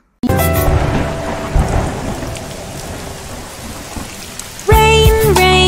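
A thunderstorm sound effect in a children's alphabet song: heavy rain hisses and low thunder rumbles, loud right from the start, before a musical tone comes in near the end.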